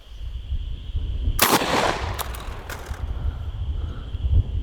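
A single loud lever-action rifle shot fired over a chronograph, a sharp blast with a short ringing tail and a couple of quick echoing cracks, set against a steady background hum.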